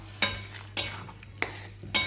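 Spice mixture being stirred and sautéed in a pan, with four sharp scraping clinks of a spoon against the metal over a low sizzle; close and distinct, without any voices.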